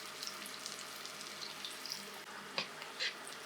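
Minced onion sizzling softly in a pan, a quiet, steady frying hiss with a few small pops and crackles, and no voices.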